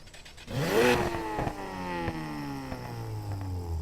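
A car engine in the racing game NFS Heat revs hard, with a sharp rising surge followed by a falling, sustained growl near and loud, with no talk over it.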